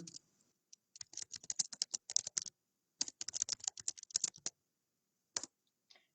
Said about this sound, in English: I'm going to try to not type too loud